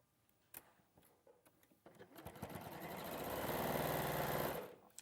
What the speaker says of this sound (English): so I'm just going to sew these together.